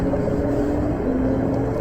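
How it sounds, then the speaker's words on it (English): Steady, constant road traffic hums and rumbles in the background near LaGuardia Airport, a dense, unbroken wash of noise with no individual vehicles standing out and no talking. "You can hear the traffic in the background"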